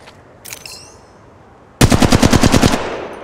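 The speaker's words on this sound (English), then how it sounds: "the enemies are shooting at me" Enemy gunfire in the mobile battle-royale game Apex Legends Mobile: after a short earlier burst, a loud, rapid automatic volley cracks out in about a dozen evenly spaced shots, close and dominant.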